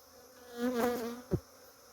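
A honey bee buzzes close by during a hive cut-out: one loud whining drone that swells and wavers for about a second, followed by a short low thump.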